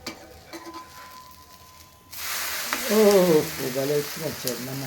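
Food laid onto an oiled pan while making a cheese dish, a hissing sizzle bursting up loudly about halfway through and continuing steadily, with a voice talking over the latter part.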